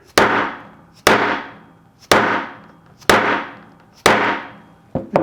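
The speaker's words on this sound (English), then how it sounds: "Just take a dead blow hammer or, little decent hammer." A dead blow hammer strikes a hollow hole punch five times at about one-second intervals, each blow a sharp, loud thud with a short decaying ring, close by in a workshop.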